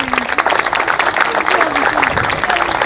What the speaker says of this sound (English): Please give Dr. Michael Israel a round of applause.